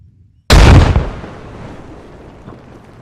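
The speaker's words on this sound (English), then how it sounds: "And when you're ready, do a controlled explosion." A controlled breaching charge blasts a building door during special forces training, one sharp, loud detonation that booms out and then trails into a long, fading rumble.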